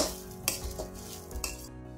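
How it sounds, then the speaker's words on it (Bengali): Light, gentle frying in a pan of a nut mixture for homemade nutty chocolates over low heat, a soft steady sizzle with a couple of sharper scraping stir sounds, close and alone without talk. "এটাকে একটুখানি হালকা গরম হিটে একটু ভেজে নিচ্ছি।"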